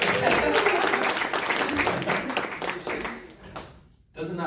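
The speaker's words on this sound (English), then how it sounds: "Please give this man a round of applause." An audience breaks into sustained applause for a man, dense clapping that stays loud for a few seconds, dips briefly near the end, then swells again.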